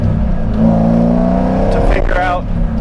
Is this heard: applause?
no